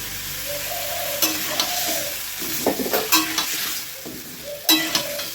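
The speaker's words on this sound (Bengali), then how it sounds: "এই মশলাগুলোকে আমি মিষ্টিগুলোর সাথে ভালো করে মিশিয়ে নেব।" Pumpkin and spices are stirred in a pan with a soft sizzle underneath and repeated scraping, knocking strokes of a spatula against the metal; no voices.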